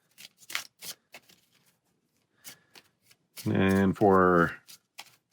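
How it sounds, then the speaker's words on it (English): A deck of game cards for the Maximum Apocalypse board game is riffle-shuffled up close: two dense, loud bursts of ruffling flutter, preceded by quiet table clicks and a few spoken words. "Shuffle our deck."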